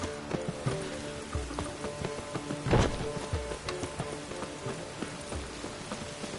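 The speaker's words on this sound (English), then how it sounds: "It only ever rains these days." Steady game rain from The Witcher 3 patters across the whole stretch, mixed with horse hoof clops, footsteps and a brief louder splash or impact midway, with no talking.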